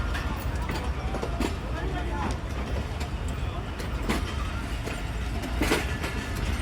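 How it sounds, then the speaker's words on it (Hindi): A train pulls out of Lahore Junction in extreme summer heat, its wheels clicking and clattering over rail joints under a continuous low rumble, with someone talking over it. "फाइनली ट्रेन डिपार्ट करने लगी है जी लाहौर जंक्शन से"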